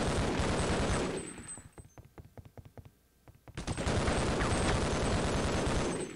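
Rapid automatic M4 rifle fire with extended 50-round magazines in the shooter game Half-Life: Opposing Force, loud sustained bursts at the start and end with a sparser string of individual shots in between.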